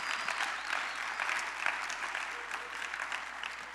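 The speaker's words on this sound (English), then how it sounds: "why don't you clap loud enough?" A church congregation applauds for its pastor, a dense steady wash of many hands clapping at even strength throughout, with no talking over it.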